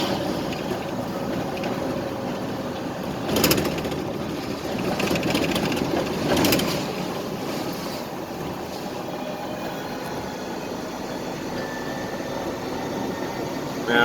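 A 1-ton truck in second gear, a little under 3,000 RPM at about 30 mph, hauls a loaded trailer uphill, giving a steady, fairly loud drone with road rumble and a couple of brief louder swells.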